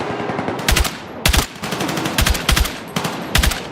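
Machine gun suppressive fire in a video game comes in short, controlled bursts of loud, close rapid shots, with brief gaps between the four or five bursts, and no talking.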